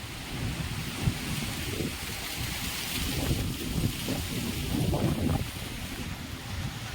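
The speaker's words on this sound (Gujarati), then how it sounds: "એટલો પવન છે અત્યારે" Strong wind gusts across an open farm, a loud, rough rushing roar with surges that swell and fade, heard alone without any voices.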